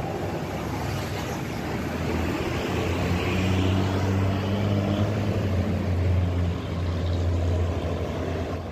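A Prima Jasa intercity bus passes by on the road with a loud, sustained engine drone and rumbling roar that swells in the middle and then eases, steady throughout with no voices.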